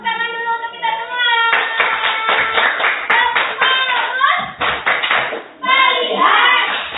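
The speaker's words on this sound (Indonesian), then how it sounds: "Oke, tepuk tangan dulu untuk kita semua." A group claps together in a burst of hand applause, mixed with voices and sung or chanted tones that rise and fall over about seven seconds.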